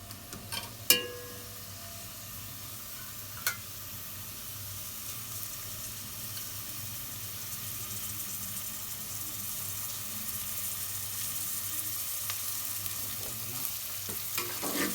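Chopped onions fry in oil in a pan, giving a steady, soft sizzle that runs throughout, with a few sharp clinks of a spoon or utensil near the start.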